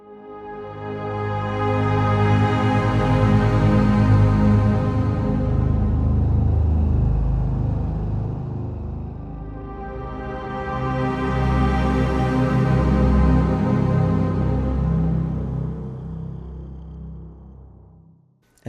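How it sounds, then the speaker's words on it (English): A reversed, stacked pianissimo arc of 66 double basses from the 8Dio library swells slowly in two long waves, a warm, growling low string mass that rises and fades with no talk. "that's the sound of 66 basses"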